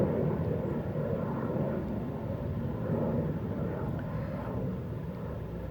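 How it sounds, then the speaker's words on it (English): An airplane passes overhead outdoors, a steady low broadband rumble that stays fairly even throughout, with faint wind buffeting and no one talking. "there's a plane going over"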